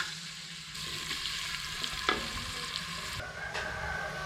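Steady sizzling of chopped onions frying in oil in a hot pan, a continuous crackle with occasional stirring clatter, no voices.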